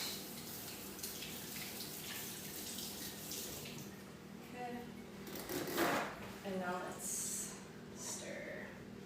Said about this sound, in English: Let me rinse my hands, because now they're too much.